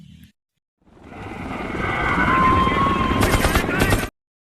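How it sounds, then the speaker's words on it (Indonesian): A helicopter arrives in a scene from the film World War Z, its rotor and engine roar swelling in after a brief pause, loud and close, ending abruptly. "Saat helikopter datang"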